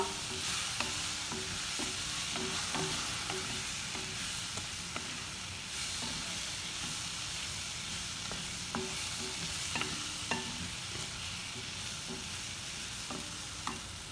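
A spoon steadily stirs a Maggi masala-e-magic spice mixture in a hot pan before pasta goes in, with soft sizzling and regular scraping knocks against the pan, heard close up with no talking.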